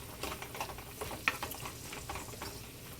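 Canned corned beef being crushed and stirred in a pot with a spoon, giving soft irregular scraping and patting sounds with faint sizzling, close and moderately quiet.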